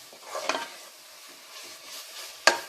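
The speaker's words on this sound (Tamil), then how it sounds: "இது நல்லா மிக்ஸ் பண்ணி விட்டுருங்க" Curry leaves and mint being stirred into sautéed onions for mutton kuzhambu: soft scraping strokes of a spoon against the pan over a faint sizzle, ending in one sharp metallic clink, close and quiet.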